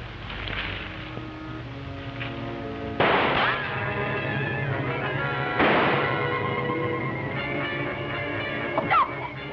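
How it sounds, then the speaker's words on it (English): Gunshots in a 1937 serial crack sharply twice, a few seconds apart, over a hissy old film soundtrack with faint music underneath. "He's shooting at a poor harmless little chimp."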